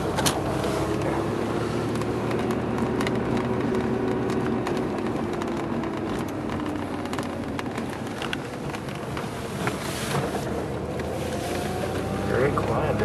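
A low, steady engine hum drones continuously with road and wind noise, heard from inside a moving car.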